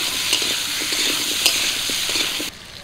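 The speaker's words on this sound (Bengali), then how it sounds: "হলুদ দিয়ে আলুগুলো একটু ভাজা ভাজা করে নেব।" Potato pieces coated with turmeric and salt fry in a hot pan of oil, giving a steady close sizzle broken by soft stirring scrapes, with no voices.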